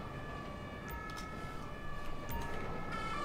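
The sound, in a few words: ambulance siren in video game GTA V LSPDFR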